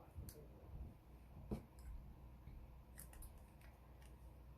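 Scissors snip thread on a handmade card, with a few soft, quiet clicks and cuts spread across a close, hushed tabletop setting.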